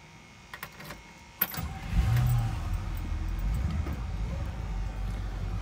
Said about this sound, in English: cold start, 1965 Buick Skylark